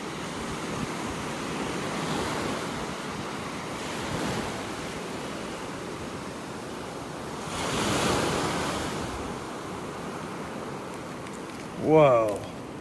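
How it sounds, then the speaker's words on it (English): Ocean surf breaks and spreads continuously on a beach in North Naples, Florida, one wave swelling louder midway, with wind buffeting the microphone and a brief voice-like sound near the end. "The waves have come up and kind of spread everything out."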